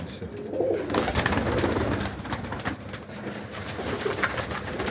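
Very large male pigeons coo over a dense, steady background of flock noise, the soft calls blending into a constant close murmur.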